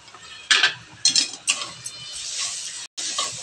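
Pav bhaji masala spices being sautéed in oil in a pan for a hotel-style pav bhaji, heard as scraping stirs and clinks of a spoon against the pan in several bursts over a soft sizzle, with no talking.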